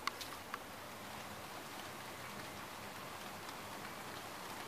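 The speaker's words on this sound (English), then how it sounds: "Can you still hear it raining?" Soft, steady rainfall hissing evenly, with a few faint drips tapping near the start; quiet and continuous with no voices.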